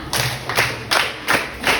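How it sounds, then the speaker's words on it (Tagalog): A class claps together five times in unison, with evenly spaced, sharp, close claps and short gaps between them. "Bigyan natin ang ating sarili ng 5 palakpak"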